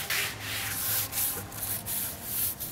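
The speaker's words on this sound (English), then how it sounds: "Then you just want to take a brush and brush the cleaner in." A brush scrubs cleaner into saturated convertible soft-top roof fabric, giving steady close rubbing strokes in a continuous back-and-forth rhythm with brief pauses, and no voices.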